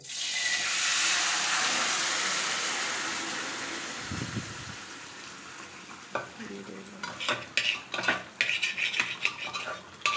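Mutton cooking in a pot at home, a broad steamy sizzle that fades slowly, then a spoon clinks and scrapes against the metal in rapid bursts, close and moderately loud, no voices.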